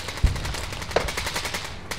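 Heavy gunfire in the Ukraine war: a steady, rapid rattle of automatic fire, with two sharper close cracks standing out near the start and middle, no talk heard.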